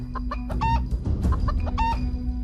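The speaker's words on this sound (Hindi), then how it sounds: "अरे ये तो मुर्गा दिख गया है" A cartoon rooster clucks in a run of short, repeated calls, close and fairly loud, over a steady low background hum.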